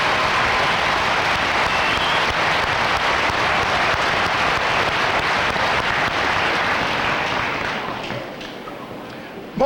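A graduation ceremony audience gives a long, loud round of applause to retiring staff, thick clapping sustained for several seconds before tapering off, with a sharp thump at the very end.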